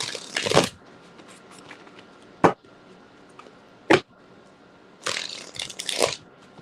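Tarot cards being shuffled in several quick bursts, crisp riffling flutters separated by pauses, close and fairly quiet.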